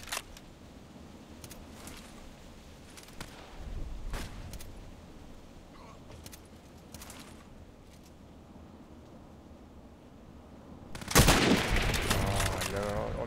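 Gunfire in Fortnite, scattered sniper and weapon shots popping at intervals before a loud dense burst of shooting near the end, heard with a person talking over it.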